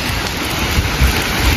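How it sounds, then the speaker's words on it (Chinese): Cold rain pours down outdoors on a wet day in Henan, a loud, dense, continuous hiss with some wind rumble against the microphone. "哎呀，这雨下的真冷啊！"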